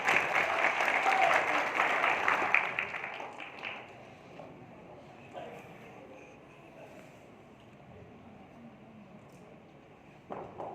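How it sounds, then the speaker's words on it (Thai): Audience applause after a video is played during a talk on software bugs, a burst of clapping that is loud at first and fades away within a few seconds, leaving a quiet room, with a brief clap-like noise near the end. "ขอเสียงปรบมือให้วิดีโออีกครั้งเลย"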